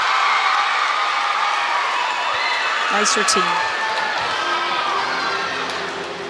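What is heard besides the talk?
crowd cheering after a gymnastics floor routine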